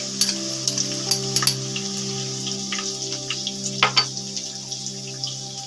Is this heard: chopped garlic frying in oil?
yes